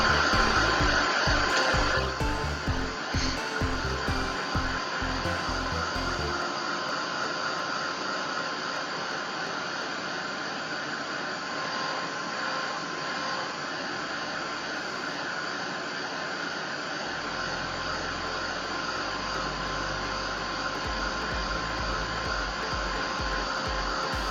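Hair dryer blowing on ink on paper, a loud continuous roaring whoosh of fan and air that runs steadily throughout, with some handling bumps early on and no talk.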